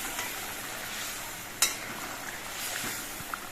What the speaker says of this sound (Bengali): গরম মশলা গুঁড়ো দিয়ে নেড়ে চেড়ে মিশিয়ে নেব।